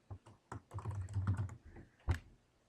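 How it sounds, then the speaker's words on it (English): Computer keyboard keys pressed in a quick, uneven burst of close clicks and taps, with a short pause and then one more firm keystroke, no voices heard. "Hit one of your arrows on your keyboard until you have your cursor, and highlight Copy Of,"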